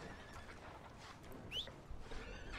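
A horse in the video game Red Dead Redemption 2 gives a faint, distant whinny over quiet game ambience, a few soft hoof clops following.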